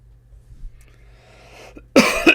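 A single loud burst of coughing near the end, close and harsh, preceded by quiet room hum and faint background sounds.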